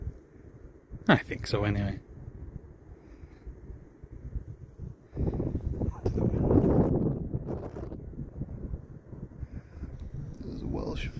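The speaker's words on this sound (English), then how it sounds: "It's a bit breezy" Breezy wind gusting on the River Mersey in Liverpool during a fishing trip, a steady low rumble of wind buffeting the microphone, rising to a louder sustained gust midway, with someone speaking briefly.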